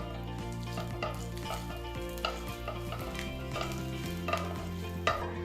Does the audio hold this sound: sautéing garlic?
yes